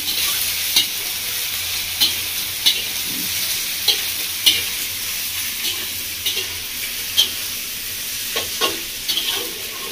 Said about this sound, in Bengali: এবারে সব কিছু মশলাটা করে কষিয়ে নেব।